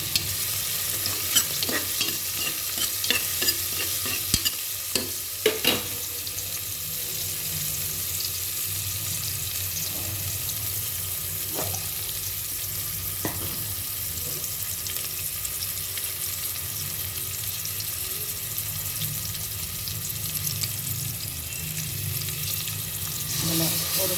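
Green chillies sauté in a pan for a beef mutton gravy, with steady sizzling and frying hiss throughout and occasional scraping stirs of a spoon against the pan.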